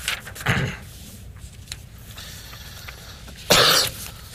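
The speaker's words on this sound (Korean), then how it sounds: "제가 지금 계속 기침을 하는데 어쩔 수 없어요." Two short, harsh coughs, the second louder, break through an otherwise quiet room with faint background noise.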